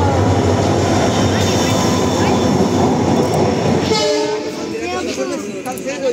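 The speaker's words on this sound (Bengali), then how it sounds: "ওই ট্রেন" A train passes close by with loud, continuous rumble and rail noise and a sounding horn, and the noise eases slightly near the end while voices talk over it.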